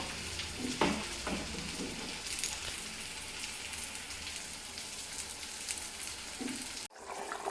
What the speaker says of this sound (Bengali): ঝোলটা খুব সুন্দরভাবে ফুটে গেছে।